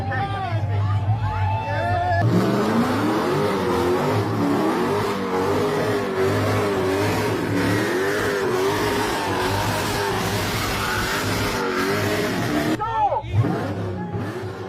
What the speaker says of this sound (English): So that's Julian Brown actually starting up fueling sports cars with his Plastoline fuel.